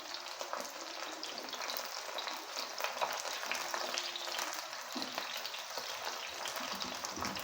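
Brinjal (eggplant) slices fry in a pan with a steady, close sizzle and light crackling, the hiss continuing evenly as the pieces are turned.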